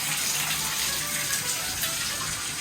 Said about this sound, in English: Run all the water finally.